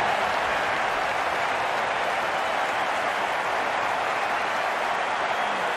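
Cricket crowd at a one-day international between India and Sri Lanka applauding on their feet, a steady, dense roar of clapping and cheering that holds loud and unbroken throughout.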